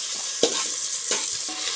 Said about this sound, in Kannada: ಇವು 1-2 ನಿಮಿಷ ಫ್ರೈ ಆಗ್ಬೇಕು ರೀ.